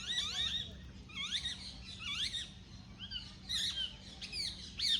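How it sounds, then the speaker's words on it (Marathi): Several birds chirp and trill in quick repeated bursts over a steady low background hum, bright calls coming in clusters throughout. "पक्ष्यांचा किती छान आवाज येतो"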